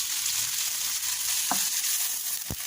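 Tempering for bisibelebath sizzles in hot oil in a pan, a steady close crackling fry with a couple of sharp stirring clicks and no talk.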